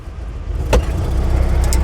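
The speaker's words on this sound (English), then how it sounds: "I twist this throttle in order to go." A small electric car with belt drive pulls away under throttle, its motor whine and road rumble building loud and close, with a brief sharp click early on.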